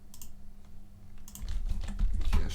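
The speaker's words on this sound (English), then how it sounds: "Typing hashtag rank" Typing on a computer keyboard, a run of quick, sharp key clicks that starts sparse and grows denser and louder, with a soft low hum underneath and no voices.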